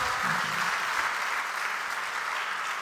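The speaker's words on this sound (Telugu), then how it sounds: "చప్పట్లు గట్టి కొడదామా?" Steady applause from a church congregation during a sermon, a continuous wash of clapping at moderate level with no let-up.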